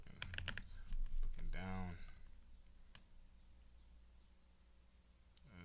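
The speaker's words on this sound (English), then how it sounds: "I can't type" Quick bursts of clicking keys on a computer keyboard, close and crisp, then a brief pause and a few more isolated taps, with a person speaking briefly between them.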